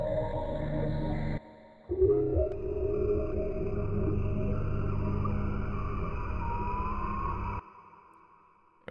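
A synth tone sent through a deliberately cheap, gritty lo-fi reverb, 90s ambient style, sustained washy pads with a tonal sweep drifting through the middle, a brief dip near the start and a clear cutoff toward the end, heard alone.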